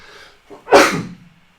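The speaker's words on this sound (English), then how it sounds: "Oh, apologies, a little sneeze there." A single close sneeze, a short intake followed by a sharp loud burst that trails off quickly.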